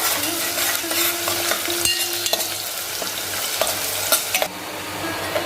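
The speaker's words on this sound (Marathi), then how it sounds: "आता आपण कांदा घालूया आता कांदा सुद्धा आपण गुलाबी रंगावरती परतून घेऊया" Onion sautéing with whole spices in a pan for Malvani chicken curry, a steady close sizzle with repeated spatula scrapes and stirring clicks throughout, no voices.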